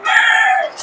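A rooster, an aggressive 6.5-month-old cock kept for breeding crested, naked-necked hens on a farm, crows once in a loud, close, sustained call that trails off, with no talking.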